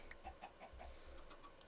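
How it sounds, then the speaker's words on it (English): A baby chicken in Minecraft gives a quick run of soft, high peeps, about five in under two seconds, faint and alone. "Oh, look at your baby chicken."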